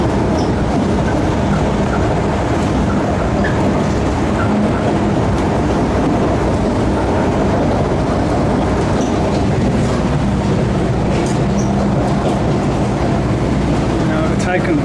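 Continuous loud train rumble with rhythmic clatter of wheels on rails, heard from aboard a passenger train overtaking a freight train near Parafield, Adelaide; a voice speaks intermittently.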